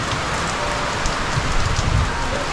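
Heavy rain pours steadily and densely as a continuous loud hiss of drops hitting surfaces, with no voices.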